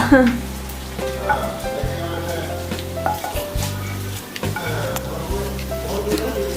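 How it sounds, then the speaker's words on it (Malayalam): Mustard seed tempering fried in hot oil is poured onto curd rice made with ration rice, giving a steady close sizzle with crackling and the clink of utensils, and a voice is heard briefly. "കടുക് വറുത്ത ഇതിലേക്ക് ചേർക്കാം"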